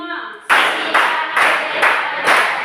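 Classroom ice-breaker clapping: after a brief spoken cue, five loud, evenly spaced group hand claps ring out in a steady rhythm.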